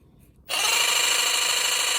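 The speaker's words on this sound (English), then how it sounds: "I like this Makita jigsaw, except it doesn't have a trigger you just turn it on" A Makita jigsaw switched on to cut into a car's A pillar, starting abruptly and running as a loud, steady, high-pitched buzzing whine with no pauses.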